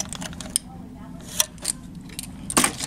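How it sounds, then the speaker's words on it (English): A key card going into a cabin door lock on a Carnival Freedom cruise ship makes a few sharp, close clicks and rattles over quiet room tone. "let me put my key card in there."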